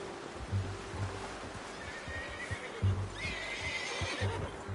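Horse whinnies in Red Dead Redemption 2 on PS4 Pro, several neighs over a steady bed of clip-clopping hooves and low ambient noise, moderately close with no talk.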